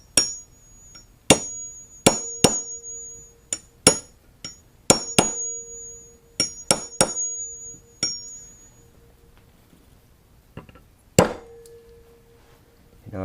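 Sharp, ringing hammer blows driving a seal into the wheel hub of a 1976 Honda MR175 Elsinore, about a dozen metallic strikes in uneven clusters with short decaying rings, close and loud, no talking.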